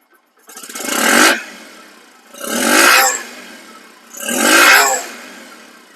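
A second-hand Bajaj Platina 102 cc motorcycle engine revs three times in surges, each rising and then fading back to a low idle, loud and close.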